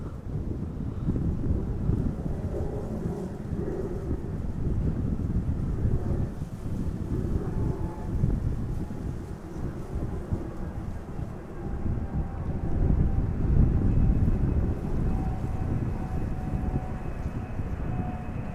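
Steady wind-buffeted roar of an airliner arriving in a crosswind at Amsterdam Schiphol Airport, a continuous low rumble heard outdoors at moderate distance, swelling slightly toward the end with no talk.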